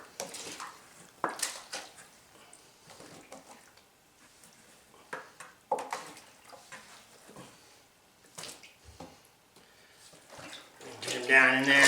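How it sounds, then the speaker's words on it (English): Wet animal furs go into an EZ100 tanning solution and are stirred, making irregular sloshing and splashing bursts of liquid, close by, with a louder churning swirl at the end. "now it's time to add them to the tanning solution"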